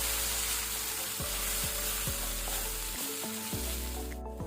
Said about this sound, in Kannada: ಲೋ ಫ್ಲೇಮಲ್ಲಿ ಸ್ವಲ್ಪ ಫ್ರೈ ಮಾಡ್ಕೊಳ್ಳೋ.